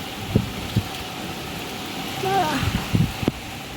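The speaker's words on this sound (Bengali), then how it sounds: "কীরকম বৃষ্টি পড়ছে দেখো যেমন বৃষ্টি পড়ছে" Steady rain hisses throughout with gusty storm noise from Cyclone Remal, while a few thuds and a voice break through near the end.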